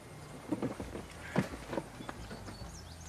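Horse hooves clip-clopping as a horse-drawn cart moves along, several distinct irregular clops at moderate distance over a quiet background, with a brief faint sound of movement between steps.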